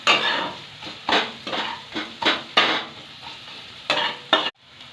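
Spice paste for Bengali egg and poppy seed curry gets stirred in a frying pan, a sizzling base cut by about ten distinct scraping strokes of a spatula in an uneven rhythm, close and fairly loud.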